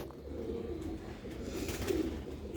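Sialkoti pigeons coo continuously in a low, steady murmur, close and fairly even in loudness, with no voices over them.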